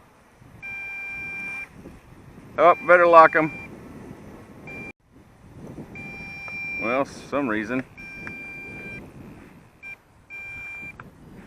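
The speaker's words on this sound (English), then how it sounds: "So now I have a beep here indicating low battery, and this one's also beeping, but the remote beep is a lot louder, as you can hear." A drone's remote controller beeping a low-battery warning during flight, steady repeated electronic tones running through the clip, with people talking over them in short bursts.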